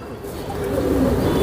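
Racer homer pigeons coo in a low, throaty, continuous murmur, close by and filling the short stretch without pause.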